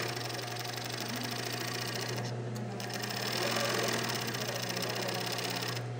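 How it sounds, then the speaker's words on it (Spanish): An industrial coverstitch sewing machine runs continuously as it stitches, a fast, steady mechanical whir and chatter, close and even throughout. "Entonces vamos a seguir cosiendo para que se pueda apreciar."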